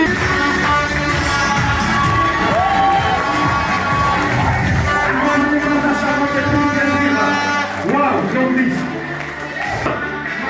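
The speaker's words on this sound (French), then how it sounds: "Sous vos acclamations, s'il vous plaît." A crowd cheers and whoops at a Longrich award ceremony in Togo, with loud sustained shouting, whistles and overlapping voices under music, filling the whole stretch without a break.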